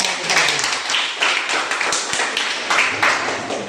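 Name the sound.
class clapping hands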